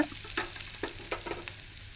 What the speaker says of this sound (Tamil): ஆட் பண்ணி நல்லா எண்ணெயிலே வதக்கி கொடுங்க